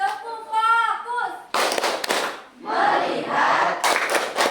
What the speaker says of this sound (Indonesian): Jadi, kita tepuk fokus terlebih dahulu.